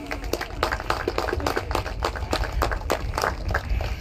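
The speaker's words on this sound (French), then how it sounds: "on peut les applaudir à l'équipe de Saint-Mandé" Crowd applause at a blind football match for the Saint-Mandé team, a steady spread of clapping with irregular sharp claps throughout, moderately near.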